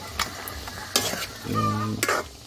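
Native chicken with ginger sizzles and fries in a pan while a utensil stirs and scrapes against it in several close, distinct strokes.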